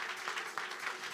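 Church congregation at a revival service claps in a brisk, steady rhythm, a close, continuous patter of many hands without talk.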